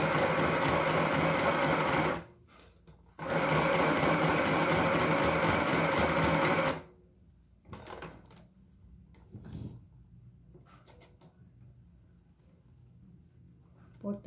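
A portable sewing machine stitches a blouse and polo shirt in two loud, steady rhythmic runs with a short pause between them, then falls quiet while a voice speaks with faint handling noises.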